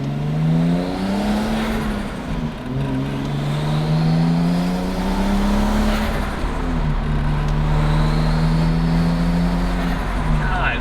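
A tuned Nissan Laurel revs hard nearby, its engine note rising and falling in repeated sweeps with a whirring turbo spool layered over it, loud and continuous.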